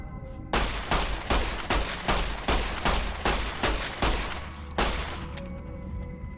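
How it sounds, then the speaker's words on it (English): In Fallout New Vegas, an automated turret fires a fast, regular burst of loud, close gunshots for about five seconds, then stops and a quieter tone lingers. "Also, I hear a turret."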